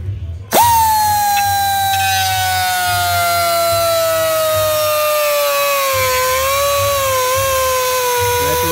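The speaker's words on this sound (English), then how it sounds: "so dremel away, brother." A Dremel rotary tool cuts a hole for a cold air intake tube on a Stillen Gen 3 install, starting with a sharp bite and then whining at a loud, steady high pitch that slowly drops, close up and without talking.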